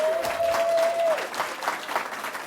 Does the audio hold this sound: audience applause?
yes